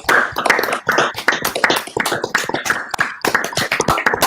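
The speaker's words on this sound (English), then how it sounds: "I want to congratulate you by at least giving a short applause" Short applause after a PhD defense, a small group clapping briskly and unevenly for several seconds, close and fairly loud, with no voices over it.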